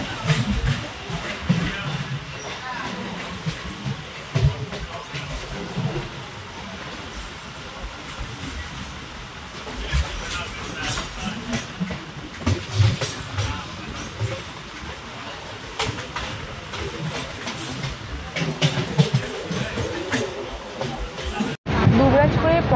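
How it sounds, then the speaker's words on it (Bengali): A Suri–Sealdah MEMU express train runs along a winding rural line, its steady rumble and wheel clatter filling the cabin with a continuous wash of noise, passenger voices murmuring faintly underneath, ending in a brief break. "আঁকাবাঁকা রেলপথ বেয়ে চারিদিকে সবুজ প্রকৃতি উপভোগ করতে করতে আমাদের ট্রেন চলেছে পাণ্ডবেশ্বরের দিকে।"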